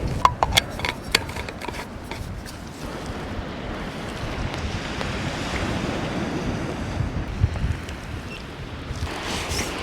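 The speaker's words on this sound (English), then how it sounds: "That's a sea settled down now." Sea waves wash against the Aberdeenshire coast in a steady surf roar, with gusts of wind buffeting the microphone and a few sharper splashes near the start and end.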